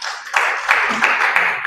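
A church congregation claps in quick, rhythmic unison, the beats landing about three times a second in close, loud bursts over a short stretch, with no voices standing out.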